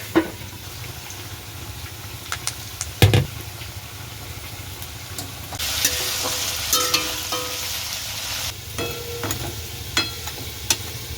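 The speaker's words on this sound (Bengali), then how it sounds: "একদম ছোটো ছোটো বল করে চলো ভেজে নিই" Small Manchurian cabbage balls fry in hot oil in a home kitchen, giving a steady soft sizzle with occasional sharp knocks and clinks of a utensil, the frying swelling louder midway before settling again.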